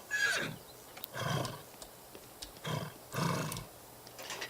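Three horses in a garden in The Sims 3 snorting and calling in repeated short bursts, roughly four rough blasts close together with brief clicks between them.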